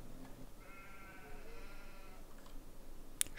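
A single faint, wavering sheep bleat sounds in the video game Farming Simulator 19, lasting about a second and a half over a low background rumble, followed by a brief click.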